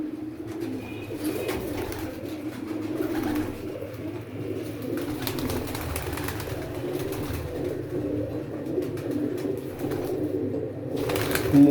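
Pigeons cooing softly with low, repeated murmuring calls, nearby and fairly steady, with occasional rustling.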